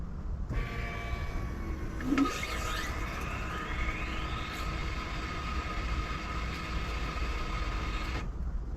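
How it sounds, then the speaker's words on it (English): Electric fuel pump priming in a turbocharged Honda Civic's upgraded fuel system, a steady whirring hum with a rising whine that switches on and runs for several seconds, then cuts off, close and fairly quiet, no talking. "I'm just gonna bump that button a few times, let the pump kick on, cycle"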